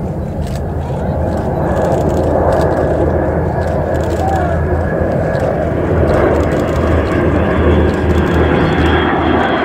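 Avro Vulcan XH558 flies in a missing man formation at the Yorkshire Air Show, its engines making a broad, steady roar that stays loud and sustained throughout.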